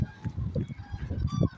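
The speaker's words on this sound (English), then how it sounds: "She can't hear me because the birds are too loud." Geese honk loudly and raggedly in a large flock close by. The calls overlap in uneven bursts.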